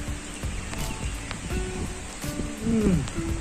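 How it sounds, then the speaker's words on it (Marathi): Steady rain falls in a village, a continuous wash of patter with scattered drops and a few louder splashes, no talking. "अचानक हा मस्त असा पाऊस सुरू झालाय"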